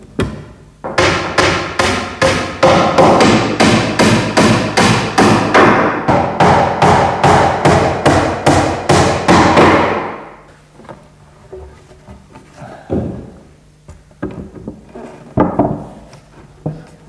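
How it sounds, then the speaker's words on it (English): Nails punched into old furniture with a hammer during restoration: a rapid, steady series of loud, close metallic blows for about nine seconds, then a few scattered quieter taps and knocks. "you may need to punch the nails in"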